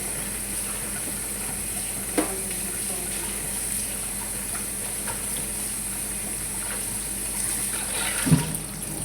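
Continuous rushing of water being poured into a cooking pot for saluyot (molokheya leaves) adobo, a steady wash with a few faint clinks, no talking.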